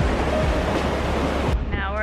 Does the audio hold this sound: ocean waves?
yes